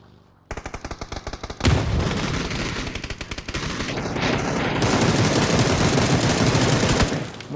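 Rapid gunfire aimed at a buggy in PUBG crackles in dense automatic bursts, loud and sustained, with heavy layered shots and some booming impacts throughout.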